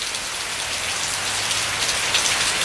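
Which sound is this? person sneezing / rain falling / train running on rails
rain falling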